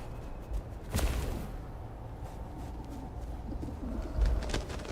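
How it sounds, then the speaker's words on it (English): Pigeons coo softly in Vampire the Masquerade Bloodlines 2, their low, gentle calls scattered across a quiet ambient background, with a couple of brief louder bursts near the start and end. "Excuse me, pigeons."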